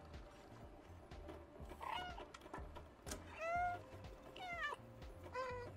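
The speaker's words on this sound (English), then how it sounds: "I'm just meowing." Several cat meows in the video game Stray, rising and falling calls repeated every second or so over a low, rhythmic game soundtrack, fairly close and clear.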